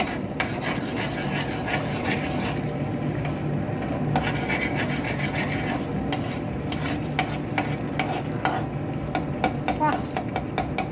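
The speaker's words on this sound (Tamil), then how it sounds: "அது வரைக்கும் கிண்டி விட்டுட்டே இருக்கணும்" Continuous scraping and stirring of egg noodles in a pan with a faint sizzle, irregular utensil scrapes throughout, close by.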